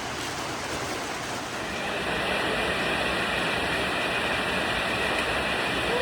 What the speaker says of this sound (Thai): นี่เป็นเสียงฝน